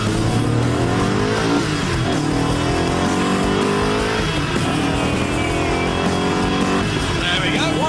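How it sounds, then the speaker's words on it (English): An Ascari KZ1 supercar accelerates hard from a standstill, its engine note loud and close, climbing through the gears with rising whine and brief dips at each shift, while someone talks over it. "There we go, 100 miles an hour from standstill in just over 8 seconds"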